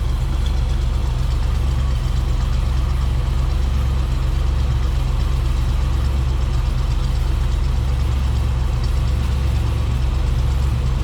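A 1969 Chevrolet Camaro RS/SS with a 440-horsepower engine idling, a steady deep low rumble that holds evenly throughout, close and loud, with no talking.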